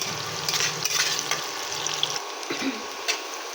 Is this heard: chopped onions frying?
yes